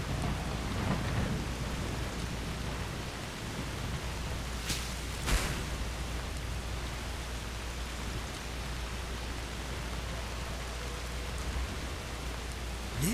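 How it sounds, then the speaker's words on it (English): Steady heavy rain hisses throughout a stormy Skyrim game scene, with a couple of sharp thunder cracks around the middle standing out above the constant downpour. "This is a stormy storm."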